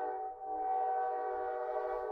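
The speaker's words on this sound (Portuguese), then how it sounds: "Tem um trem passando aqui perto da minha casa. Escutamos o trem." A train horn sounds steadily near a house in Brazil, a sustained chord-like blast holding for the whole stretch with faint low rumble beneath, no talking.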